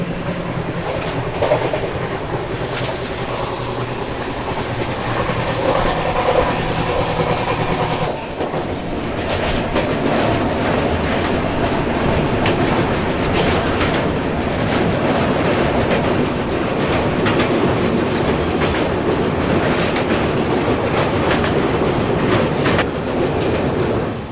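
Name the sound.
Pushpak Express passenger train running on rails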